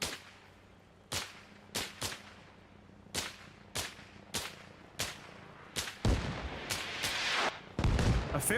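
Gunfire and artillery in the military video game Arma Reforger: a steady series of sharp, loud reports roughly every half second to second, some distant-sounding, with rumbling blasts toward the end.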